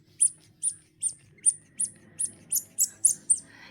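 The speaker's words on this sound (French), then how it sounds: "Et en fait, c'est les sifflements d'oiseaux." A small bird gives a rhythmic series of about nine sharp, high whistled chirps, evenly spaced and fairly close, over a faint low background rumble on a beach outing.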